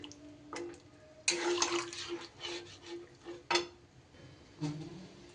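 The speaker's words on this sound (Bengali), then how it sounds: "এইবার আমি এখানে দিয়ে দেব জল আমি কিন্তু নর্মাল টেম্পারেচারের জলই দিলাম" Room-temperature water poured into a cooking pan of potato and pointed gourd curry, heard as splashing, trickling bursts that start and stop several times, close and moderately loud.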